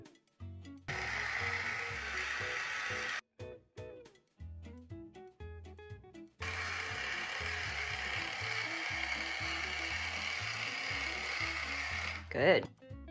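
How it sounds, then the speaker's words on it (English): A toy drill's mechanical ratcheting clatter runs in long continuous bursts with short pauses between them, close by, ending with a brief whine. "we're gonna use a drill."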